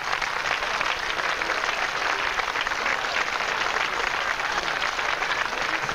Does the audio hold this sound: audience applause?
yes